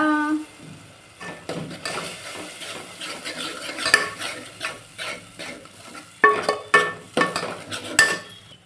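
Ground masala paste stir-fried in a pan, with repeated spatula scrapes and clinks against the metal over a soft sizzle, quieter at first and then stronger, uneven strokes near the end, no speech.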